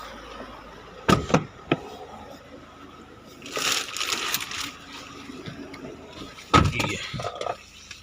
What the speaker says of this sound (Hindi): ये मैंने दरवाज़ा लगा लिया